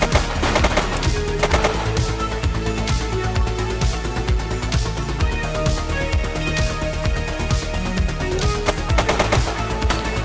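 Rapid automatic gunfire from The Precinct, a police action game, rattles in dense, loud bursts that run almost continuously for ten seconds, sharp repeated shots with no pause long enough to hear talk.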